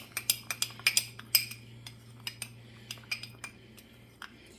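A metal spoon scrapes and clinks against a cooking pot while stirring beef tips, sharp irregular taps and chinks coming close and quick, then thinning out, over a low steady hum.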